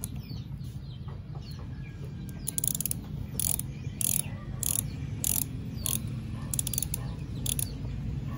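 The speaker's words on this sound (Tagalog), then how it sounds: "Gamit lang tayo ng size 8 guys, socket wrench" A size 8 socket wrench ratchets in repeated bursts of clicking while installing a hydraulic clutch and brake master on a Raider 150 motorcycle, close and steady over a low background hum.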